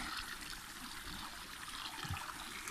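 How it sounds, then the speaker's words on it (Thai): A forest stream flows steadily on a mountainside, a continuous watery trickle and rush heard alone, moderately close, without pause. "เบื้องน้ำไหลครับผม"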